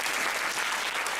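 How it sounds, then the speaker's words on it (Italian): An audience at a local awards ceremony breaks into dense, loud applause, a continuous wash of many hands clapping together, with no voices over it. "Quindi un applauso forte, davvero forte, forte, forte."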